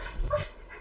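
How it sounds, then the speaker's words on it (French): A dog panting up close in a short quick burst of breathy huffs, heard alone with no talking. "c'est le chien ça"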